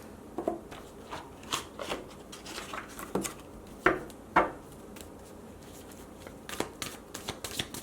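Surrender oracle cards are shuffled in a quiet room, making a series of soft, close riffles, slaps and snaps at an irregular pace, with a few sharper card hits in the middle.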